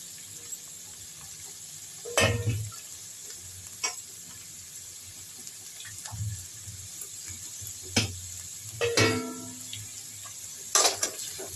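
Vegetables and tomatoes frying in a pan for vegetable kothu parotta give a soft steady sizzle, broken by several sharp clanks and scrapes of a spatula stirring against the pan.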